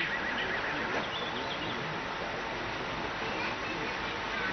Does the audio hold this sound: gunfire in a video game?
no